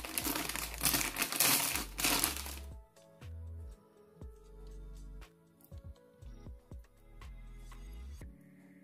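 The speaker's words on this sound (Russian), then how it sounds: "Это лента. Кажись, двухсторонняя." Crinkling and rustling of a roll of single-sided adhesive tape being handled while unpacking a parcel, a dense crumpling burst at first, then softer scattered crackles and rubs with speaking voices in between.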